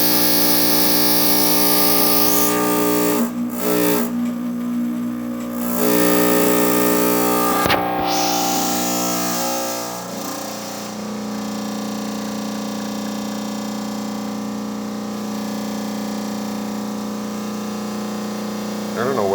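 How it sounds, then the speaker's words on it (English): Euro 2000 espresso machine pulling a shot, a steady droning pump hum with strong tonal buzz and rattling case vibration, running continuously with a few brief dips and shifts in pitch. "And then we'll pull a shot."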